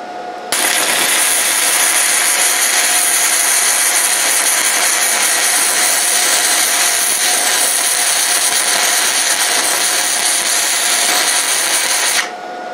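A Vevor 130 amp inverter welder running a fillet weld, a steady loud crackling hiss that holds unbroken for about twelve seconds before cutting off abruptly, no voices.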